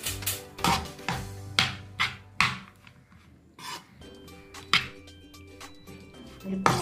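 A spoon stirs okkara, a Diwali sweet, in a metal pot with a steady rhythm of scraping strokes and light clanks about twice a second, close and fairly loud, with a short pause midway.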